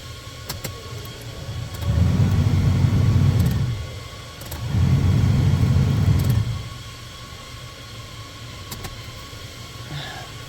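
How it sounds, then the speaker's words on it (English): The blower motor of a 2015 Toyota Tacoma cycles on twice in a row, each time a low whirring hum lasting about two seconds, with soft clicks and a quiet background between runs. "plug in the blower motor, and then cycle it on to make sure there's no noise and it works properly"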